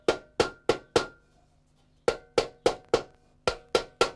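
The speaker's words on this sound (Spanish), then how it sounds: "Todo a golpes con el martillo" A hand hammer strikes metal in a rural forge, ringing blows in quick groups of four with a short pause between groups, loud and close with sharp decaying clangs.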